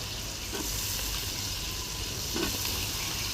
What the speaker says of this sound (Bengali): আলুটাকে মশলার সাথে আগে কিছুক্ষণ ভালো করে কষাই নিবে।